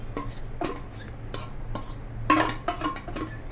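Spoon scraping and stirring in a metal pot of Chettinad mutton kulambu as ground pepper and tomato paste are mixed in, a series of soft, close clinks and scrapes with no talking.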